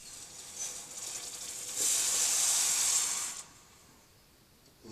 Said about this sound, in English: you can hear the water boiling as it sucks the heat out of the metal